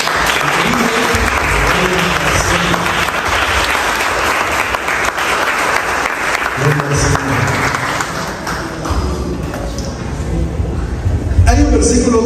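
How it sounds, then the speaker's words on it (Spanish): A church congregation applauding during a Spanish-language sermon on the second coming, a loud, dense roar of clapping and crowd noise that holds for seconds and eases slightly, with voices mixed in. "Denle un fuerte aplauso."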